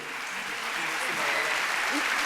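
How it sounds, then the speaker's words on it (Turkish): A live TV studio audience keeps up continuous, even applause during a special NTV broadcast marking the TEMA foundation's 25th anniversary, swelling slightly toward the end. "Büyük bir alkış tekrar onlar için."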